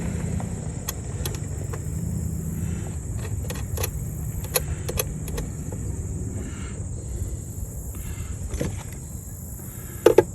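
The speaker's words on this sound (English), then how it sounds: "I'm sure you can hear the vehicles going by out there." Steady low rumble of vehicles driving past outside in an RV park on a Sunday, a continuous distant traffic drone with faint clicks and a brief knock near the end, no talking.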